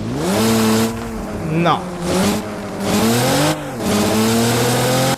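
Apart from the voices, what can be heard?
car engine revving in video game Car Parking Multiplayer 2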